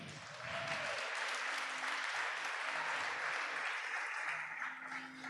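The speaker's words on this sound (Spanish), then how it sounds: "Le da palmas por eso." Congregation applauding in a church during a Spanish-language sermon, a sustained, dense wash of clapping from many hands that runs steadily for several seconds and eases slightly near the end.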